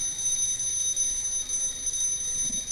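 A timer alarm in Mass Effect 2 rings loudly and continuously as a sustained high-pitched electronic tone, steady without pauses above faint low background noise.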